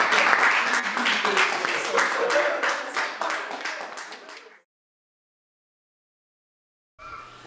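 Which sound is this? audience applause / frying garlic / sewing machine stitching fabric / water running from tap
audience applause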